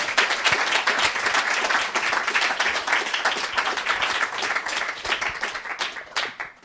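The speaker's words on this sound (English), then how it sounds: "the greatest round of applause for Rachel for the book" An audience at a book event applauds author Rachel Kushner, a lively crowd of hands clapping steadily and close, tapering off toward the end.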